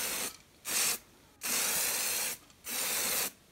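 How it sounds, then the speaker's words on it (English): Three bursts of spray paint hiss out in short passes onto upholstered furniture, each about half a second to a second long, separated by brief quiet gaps. "I'm just going to lightly spray this."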